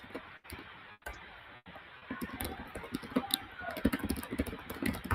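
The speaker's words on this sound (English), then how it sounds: "And Hina, I think you're typing." Someone types on a computer keyboard during an online call, with a quick run of close, soft clicks and taps that grows busier toward the end.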